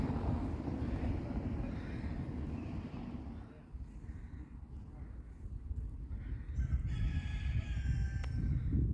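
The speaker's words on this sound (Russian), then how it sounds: "И петухи поют." Roosters crow in a warm rural village among turkey poults, heard as a steady outdoor bed with faint distant calls, mostly masked by wind and low background noise.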